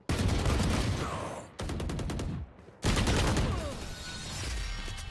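Dense automatic rifle fire in a competitive Valorant match, long sustained bursts of rapid shots with brief gaps between them, loud and continuous.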